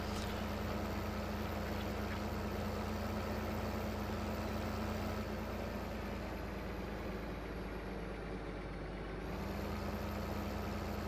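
A tractor engine in Farming Simulator 15 drones steadily at a low idle rumble, loud and constant, with a slight shift in tone partway through and a brief hiss near the end.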